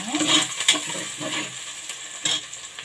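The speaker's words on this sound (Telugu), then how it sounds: "ఆనియన్స్ వేగే వరకు మూత పెట్టేద్దాం. ఇప్పుడు ఆనియన్స్ ఫ్రై అయిపోయాను" Onions frying in a pan under a lid give a soft, steady sizzle, broken by a few sharp metallic clinks and taps of the lid and utensils, close by and fairly quiet.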